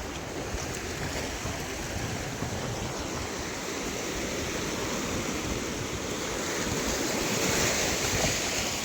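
Sea waves wash up on a sunny shore with a steady roar of surf and some wind noise on the microphone, loud and continuous, with no talking.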